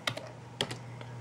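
Keys on a computer keyboard are typed in a few quick, separate taps, close and clear over a faint steady hum.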